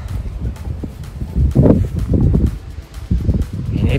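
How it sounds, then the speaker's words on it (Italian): Gusty wind buffets the microphone near the summit of Monte Beigua in the Ligurian mountains, with uneven low roaring bursts, close and loud. "Vento"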